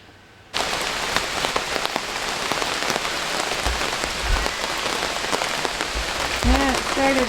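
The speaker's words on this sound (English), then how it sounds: "it started raining, didn't it?" Steady rain pattering on surfaces in a wooded outdoor setting, a dense close hiss starting abruptly after a brief quiet moment, with a few soft drips and a faint animal call near the end.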